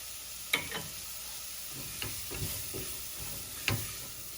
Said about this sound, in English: Mix well for 3 to 4 minutes till the mangoes just begin to soften.